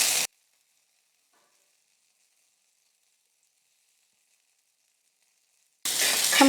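Potato snack frying in a hot pan, giving a loud, close sizzle for a moment at the start and again at the end, with dead silence in between.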